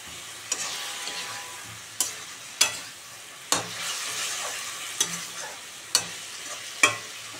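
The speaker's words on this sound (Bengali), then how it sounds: "এই যে হয়ে গেছে আমার ভাজাটা, এই যে টমেটো গলে গেছে দেখুন।" Tomatoes and spices frying in a pan for a potato-cauliflower egg curry: a steady sizzle broken by about eight sharp spatula scrapes at irregular intervals, close and moderately loud, with no talking.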